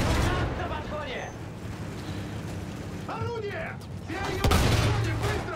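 Battlefield 1 combat with a tank cannon and gunfire: a heavy booming blast near the end stands out over bursts of shooting and rumbling mechanical noise, with chatter mixed in.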